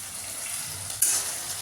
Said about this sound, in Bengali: পেঁয়াজটা একটু লাল করে ভাজতে হবে